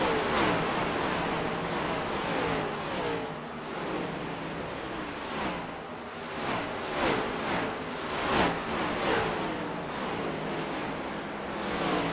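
In iRacing at Bristol Motor Speedway, a pack of race cars keeps up a loud, continuous engine roar, with shifting pitch sweeps as cars pass close by.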